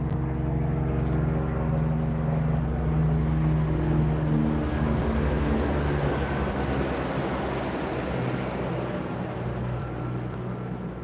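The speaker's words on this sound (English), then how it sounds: "There's a helicopter coming over me." Helicopter passing overhead outdoors, a steady low rotor rumble with a drone of engine hum that stays loud and constant throughout, with no voices over it.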